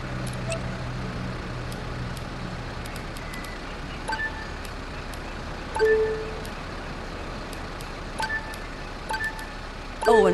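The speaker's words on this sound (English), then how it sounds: "Doesn't that engine sound wonderful? I just love the sound." Bus engine idling in the driving game Bus Simulator 21, a steady low rumble running throughout with a few short electronic beeps and tones on top, no talking.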